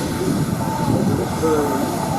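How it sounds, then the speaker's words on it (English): A steam traction engine runs during the grand parade at the 2016 Woodcote steam rally. It makes a steady, continuous mechanical rumble and hiss, with faint muffled voices in the background. "Nice to see an Orkin traction engine, it's the way they just build things."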